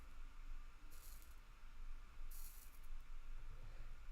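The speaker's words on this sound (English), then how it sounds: "Spray these wires out." An aerosol spray can hisses onto the wires of a 1.2 m F4U Corsair model plane in two short bursts, each about half a second long, over a steady low background hum.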